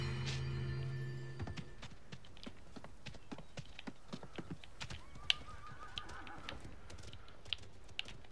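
A horse in the video game Realm Royale whinnies, then soft rhythmic hoofbeats and clicky taps run steadily beneath, fairly quiet and without talk.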